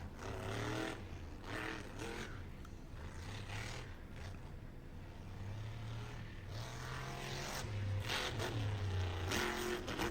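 A monster truck at an All Star Monster Truck Tour 2025 event in Spartanburg, South Carolina roars steadily over a jump, its engine revving in loud, sustained waves against arena noise, with no talk.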